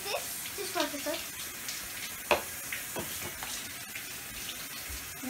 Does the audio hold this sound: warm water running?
yes